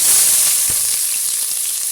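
Onions sizzle loudly in hot oil with bay leaves for Tamil-style kuska, a steady close frying hiss with faint stirring scrapes.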